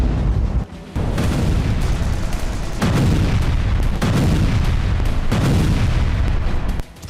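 Heavy military bombardment in Gaza, with a loud continuous barrage of deep booming explosions and rumbling blasts in irregular bursts, dropping out briefly near the start and near the end.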